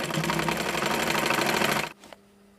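A sewing machine stitching elastic into pajama fabric, a close rapid mechanical whir running steadily then stopping abruptly, followed by a faint click.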